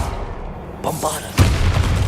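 Bombarda blasting spell in the Hogwarts Legacy video game, a sudden loud booming explosion with a crackling rumble that lingers, after a voice calls out the spell.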